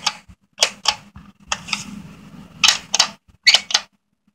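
The power button on a PlayStation console is pressed repeatedly, making a series of crisp, close plastic clicks in small irregular clusters against quiet background.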